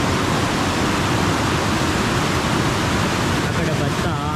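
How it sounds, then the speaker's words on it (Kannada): A waterfall crashing down with force gives a steady, loud, broadband roar of falling water that stays close and constant throughout, with no voices. "ಇಲ್ಲಿ ನೋಡಿ ಏನು ಫೋರ್ಸಾಗಿ ಬೀಳ್ತಿದೆ ನೋಡಿ."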